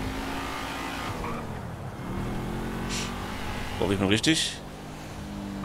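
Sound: car racing on the Autobahn in the video game GTA V

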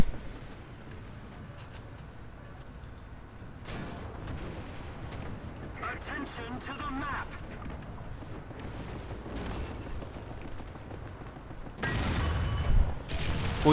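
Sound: tank gunfire in the video game War Thunder

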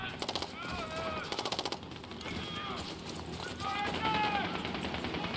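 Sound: gunfire in the video game Call of Duty Black Ops 6

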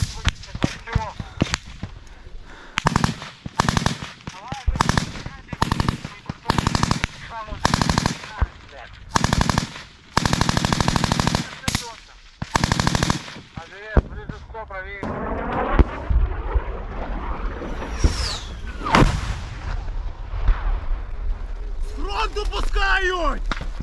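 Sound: gunfire and mortar or artillery fire at a Russian checkpoint

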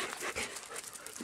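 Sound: golden retriever panting and whimpering for lunch

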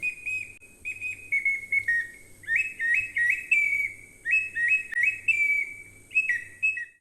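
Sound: whistling imitating a bird call

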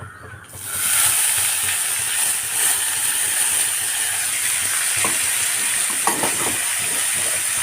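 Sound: cabbage added to a pan and stir-fried, sizzling

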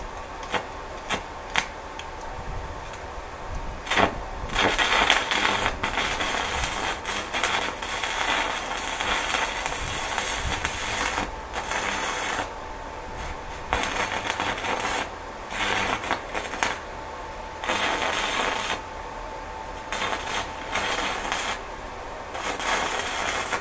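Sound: arc welding with old basic-coated electrode at about 100 amps

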